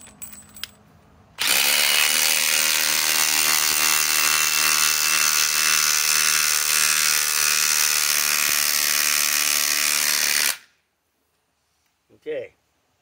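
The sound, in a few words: Milwaukee M18 Fuel impact driver driving lag screw into wood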